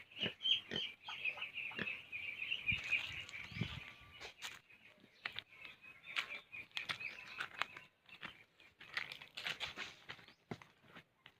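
Pigs grunt and snuffle at close range while eating mangoes fallen from a heavily fruiting tree, an irregular run of short rough grunts over chirping birds and scattered thuds.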